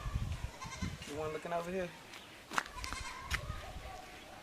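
Goats bleat in a Montego Bay, Jamaica setting, with a black goat giving a couple of wavering, nasal calls at middle distance amid a man's close-up talking.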